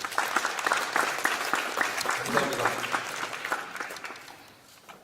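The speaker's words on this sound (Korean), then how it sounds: "여러분들 큰 박수로 격려 부탁드리겠습니다" An audience claps steadily at a Korean political forum on left-leaning education, a dense patter of many hands that fades toward the end while someone speaks briefly over it.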